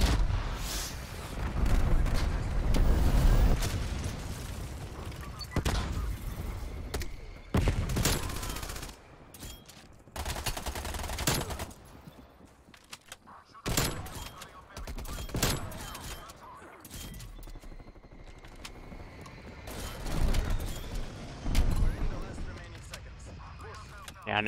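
Rapid gunfire and explosions from a Call of Duty Cold War multiplayer match, with dense repeated bursts, booms and impacts filling the whole stretch, loud and near, with brief lulls between volleys.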